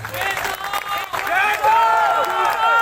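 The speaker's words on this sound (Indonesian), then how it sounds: "Tepuk tangan untuk Ketua Umum kita." A crowd at an Islamic religious gathering cheers and claps for the organisation's chairman, loud and continuous, with excited voices and calls rising over the clapping.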